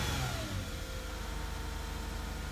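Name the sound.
Lexus IS250 engine idling high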